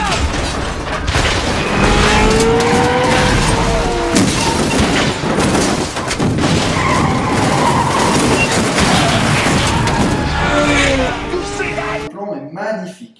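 Cars crash and roll over in a film car chase: loud continuous roaring, metallic clattering and booming impacts under excited voices and swelling music, ending abruptly.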